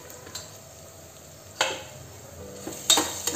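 Hing, turmeric and coriander powder sauté in a pan under a quiet hiss, broken by a few sharp spoon scrapes and clicks against the pan, the loudest near the end.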